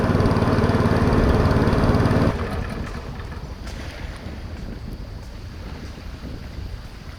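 A boat engine drones steadily and loudly, then drops to a lower, rougher rumble mixed with wind noise, on the river through Kong Lor Cave in Laos.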